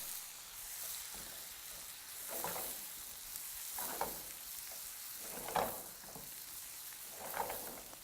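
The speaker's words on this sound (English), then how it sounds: "now we're going to add our small diced onions right into the pan" Small diced onions sizzle in leftover bacon grease in a very hot pan, with a steady frying hiss and periodic scraping bursts as they are stirred around, close and moderately loud with no voices.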